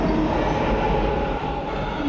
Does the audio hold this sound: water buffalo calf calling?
no